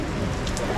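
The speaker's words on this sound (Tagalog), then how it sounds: "ang lakas ng ulan" Heavy rain pouring down, a dense, continuous hiss of drops with no pauses.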